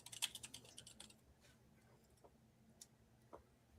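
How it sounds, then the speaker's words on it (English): Quiet clicking of fingers typing on a computer keyboard, with a quick burst of keystrokes at the start and then a few sparse, faint taps. "this is the not fun part because we're just typing"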